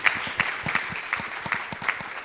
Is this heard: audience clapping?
yes